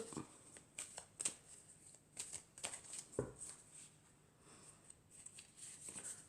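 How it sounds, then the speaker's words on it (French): Oracle cards are drawn from a deck, giving soft papery slides, flicks and riffles spread through the clip, quiet and close. "je vais prendre encore 4 cartes."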